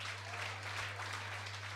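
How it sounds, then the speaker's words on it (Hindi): An audience at a religious gathering with a Jain monk in Kunkuri, Jashpur, claps steadily, a continuous even patter of many hands over a low electrical hum, brief and moderately close, with no one speaking. "ताली बजा दो। ताली बजाने में कंजूसी नहीं,"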